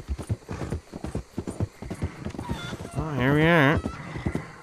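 Horse hooves clip-clopping in the video game Red Dead Redemption, a steady close rhythm of hoofbeats joined midway by a brief whinny, while someone speaks a few words.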